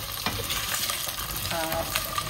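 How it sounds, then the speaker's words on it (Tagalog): Potatoes frying for adobo are stirred in a pan, a steady close sizzle with scraping stir strokes throughout, no voices. "wag natin siyang pigilan na halu-haluin para hindi dumikit yung ating patatas guys"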